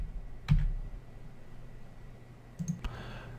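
A key pressed on a computer keyboard gives two short, faint clicks, one near the start and another near the end, with quiet room hiss in between.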